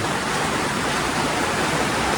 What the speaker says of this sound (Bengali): দেখুন বাইরে প্রচুর পরিমাণে বৃষ্টি, বুঝান যাবো না